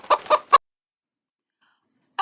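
A hen gives three quick close clucks, followed by silence and then the start of a fourth cluck at the end.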